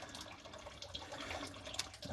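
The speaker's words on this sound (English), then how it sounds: "currently I'm draining the radiator. You can hear that." Coolant drains from the radiator of a 1974 Dodge Charger with a leak, a soft continuous trickle and splash of liquid, faint and steady throughout.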